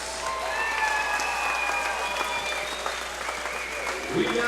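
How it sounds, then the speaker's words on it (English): A fight-night crowd at a KCFA combat event applauds both fighters, steady loud clapping throughout with cheering and whistling voices layered on top. "Let's hear a round of applause for both fighters."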